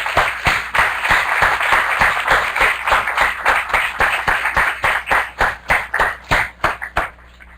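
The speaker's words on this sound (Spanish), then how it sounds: "Vamos a darle un fuerte aplauso a ella." An audience applauds María José Duque with loud, rhythmic clapping in a steady beat that thins into separate claps near the end.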